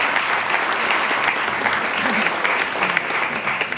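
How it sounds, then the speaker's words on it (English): Sustained applause from a live audience at a talk introduced by Rabbi Shmuley, dense and steady from start to end with no pauses. "You can applaud for that as well."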